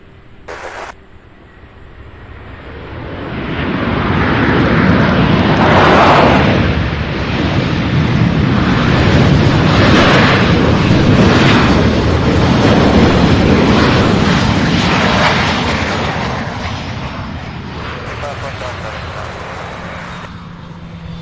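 A Southwest airliner landing at Louisville International Airport: a broad jet roar builds, holds loud and sustained for several seconds as the plane passes, then slowly fades away.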